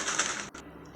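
Crunchy fried chakli, made so it does not soak up oil, snapped and broken up close: a dense burst of crisp crackling with a brief pause midway, then a softer crumble.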